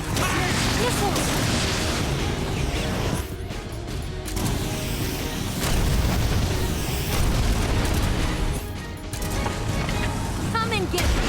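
Missiles explode in Metal Gear Solid Delta, with loud, dense booms and rumbling blasts rolling nearly continuously and mixed with clanking mechanical noise, while voices speak underneath.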